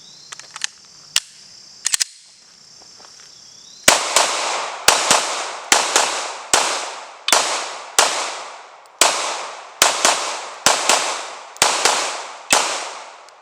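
Glock 19 Gen 6 pistol firing at a range, a few sharp isolated shots followed by a steady string of about a dozen loud, evenly spaced reports, each with a quick decaying echo.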